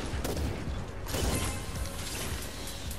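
Enemy gunfire in the video game Fortnite Save the World, a dense, continuous clatter of shots and mechanical noise filling the whole stretch, loud and busy with bursts around the middle.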